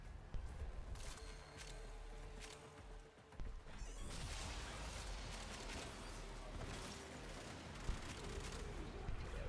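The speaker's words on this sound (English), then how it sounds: "I'm hearing some fireworks going off nearby me." Fireworks go off nearby in a series of sharp, irregular pops and crackles, some close together like a barrage. They play over steady background noise from the Warframe game.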